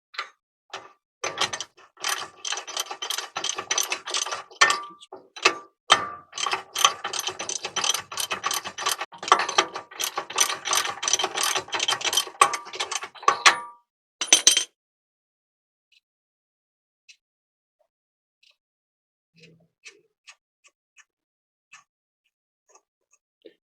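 Ratchet on a torque wrench lengthened with a pipe over its handle, loosening a nut on a 2000 Workhorse P32 motorhome front suspension; rapid close metallic ratcheting clicks in bursts for about fourteen seconds, then near silence with a few scattered faint taps.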